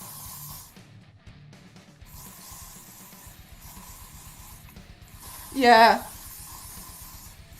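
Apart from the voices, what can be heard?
hairspray being sprayed from an aerosol can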